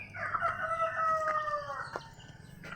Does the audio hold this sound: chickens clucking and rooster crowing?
yes